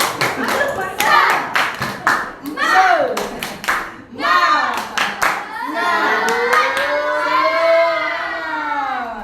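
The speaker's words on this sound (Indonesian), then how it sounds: "Kita tepuk semangat dulu ya." A school class performs a rhythmic spirit clap, sharp patterned bursts of many hands clapping in unison, alternating with children's voices chanting and an adult speaking nearby.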